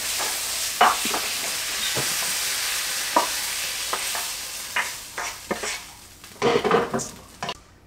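Steady sizzling of pork and onions frying in a pan, with a spatula scraping and stirring in occasional clacks, louder bursts of scraping near the end.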